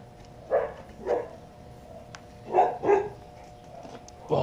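A dog barks repeatedly in a home, with six or so moderate barks in uneven pairs sounding from a short distance against a quiet steady background hum.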